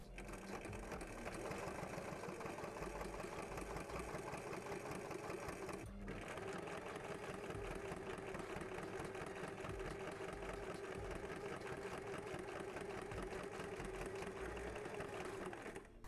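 A sewing machine runs steadily, stitching felt cactus pincushion pieces together, a fast even mechanical whirr with a short pause near the start, close and continuous.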